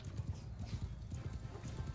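Horse hooves clip-clop in a Bannerlord battle, a busy, steady patter of many hoofbeats close by amid the clash of cavalry and infantry, with a faint whinny and some voice mixed underneath.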